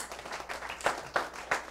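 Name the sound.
audience applause at a holiday party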